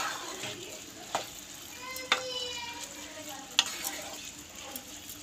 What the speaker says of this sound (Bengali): এবার আমি ডালটা ছড়িয়ে দেবো উপর দিয়ে। ভালো করে নাড়িয়ে চাড়িয়ে নেব।